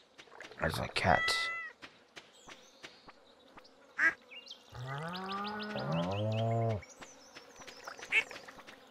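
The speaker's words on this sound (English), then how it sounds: "There's my cat." A cat in the farming video game Stardew Valley gives a few short meows amid small game sound effects, clicks and quacking, fairly close and clear, with brief quiet gaps between sounds.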